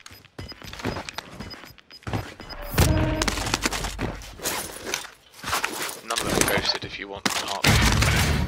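An 85-round Bullfrog submachine gun fires in a Call of Duty Warzone trios match: repeated rapid bursts with footsteps and clanks between them, under a player's talking.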